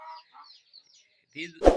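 Amrohi Aseel hen and rooster giving a few faint, scattered clucks and calls, then a louder, sharper squawk close by at the end.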